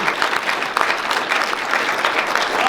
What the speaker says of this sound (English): We are now going to give a round of applause to the best there ever was